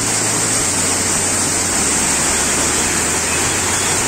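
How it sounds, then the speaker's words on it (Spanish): A waterfall in the El Carmen sector of Zamora Huayco Alto, Loja, Ecuador, pours in a loud, constant, close rushing roar that fills the whole moment, with no voices. "hemos llegado a esta caída, que yo creo que ya puede ser considerada una cascada"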